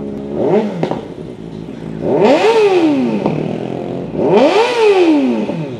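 A motorcycle fitted with a Spanish-made IXIL exhaust, revved hard three times close by, each blip rising and falling in pitch with a raspy, crackling tone while the engine idles in between.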